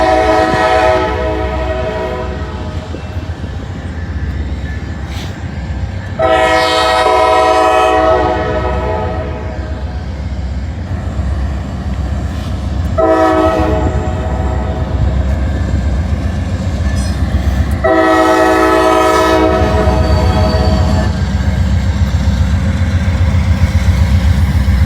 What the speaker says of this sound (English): Looks like it might be a grain train